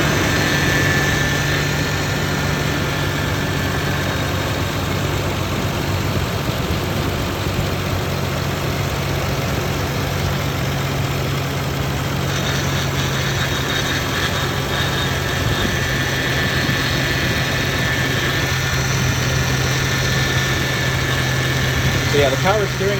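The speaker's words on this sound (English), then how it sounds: "the power steering pump is making a little bit of noise" A 1988 Toyota Land Cruiser FJ62 idles steadily with a constant low drone and a faint whine from the power steering pump, with voices speaking over the running engine.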